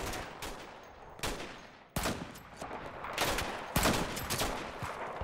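Rapid gunfire in a sniper video game, bursts of sharp cracking shots in clusters, loud and close, with a few sudden heavier volleys.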